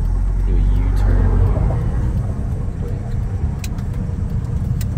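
A 1997 Nissan March driving with steady low engine and road rumble throughout, a voice talking over it in the first part.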